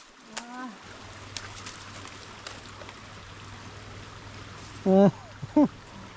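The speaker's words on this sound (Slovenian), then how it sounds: "zdaj pa še nazaj čez potok" A stream flows near a karst cave, a steady low rushing of water running under the whole stretch, with a few brief loud vocal outbursts from people nearby.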